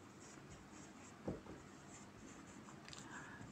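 Chalk or a marker scratches across a board as a triangle problem is written out in a class five maths lesson, heard as faint, short strokes over quiet room tone.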